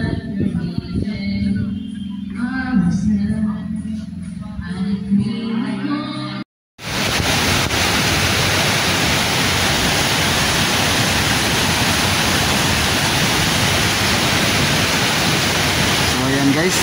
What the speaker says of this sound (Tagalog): Dito po tayo ngayon sa Tuwasan Falls.